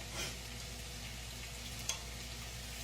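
Okra fries steadily in a pan of hot oil, a soft continuous sizzle and crackle with one brief sharper pop near the end, with no talking.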